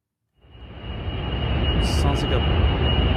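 Recorded noise from an AI data center plays back as a broad, roaring rumble like a plane taking off. It starts abruptly and swells to a loud, steady wash with a constant high tone running through it.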